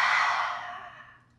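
A single forceful open-mouthed exhale, the lion's breath panting used in breathwork, starts loud and breathy and fades away over about a second.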